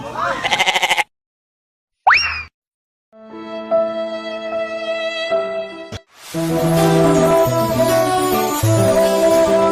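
A goat bleats loudly and close at the start of a scene in a comic drama, a short wavering cry, followed by a gap and then sustained musical tones.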